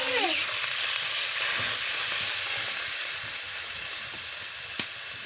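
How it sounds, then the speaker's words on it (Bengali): Water is added to a spice paste with green chili frying in a pan for a mrigel fish head and lemon sour curry. A steady, close hiss and sizzle runs throughout with no speech. "আমি পরিমাণ মতন জলটাও দিয়ে দিচ্ছি"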